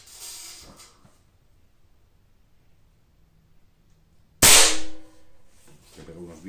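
After near silence, a single sharp shot from a Kral Puncher Breaker .22 PCP air rifle cracks loudly with a hissing burst, followed by faint movement and a voice starting.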